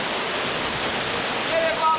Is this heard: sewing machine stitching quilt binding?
no